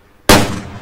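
A single sharp .22 rifle shot fired at a duck in the hunting game Way of the Hunter cracks out loudly and close, then decays quickly into a short fading tail.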